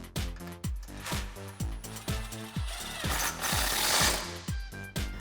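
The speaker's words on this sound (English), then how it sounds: "we can tighten that up with a 10mm socket" A 10mm socket ratchet tightens a factory bolt on a Jeep Wrangler JK suspension bracket, a close, regular series of sharp mechanical clicking bursts repeating roughly twice a second.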